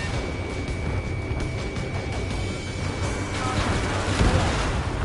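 A missile explosion and heavy combat rumble in the Ace Combat jet fighter game. A dense, loud roar of booms and fire runs throughout and swells into a stronger blast near the end, with no talking.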